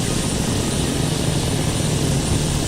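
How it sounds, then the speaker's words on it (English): Helicopters in the DCS World flight simulator, a steady dense rotor and engine roar that stays loud and unchanging throughout with no voices. "There goes the helicopters."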